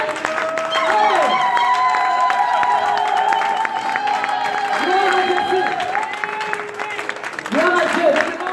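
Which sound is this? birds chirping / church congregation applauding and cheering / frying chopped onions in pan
church congregation applauding and cheering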